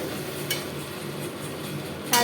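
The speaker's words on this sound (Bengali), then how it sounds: "প্রথমেই আমি অল্প করে পেঁয়াজটাকে ভেজে নিচ্ছি দিয়ে, তার আগে অল্প একটু জিরে দিয়ে দিয়েছিলাম।" Onion frying in a pan with cumin over a high flame, giving a dense, continuous close sizzle with a couple of quick scraping stirs.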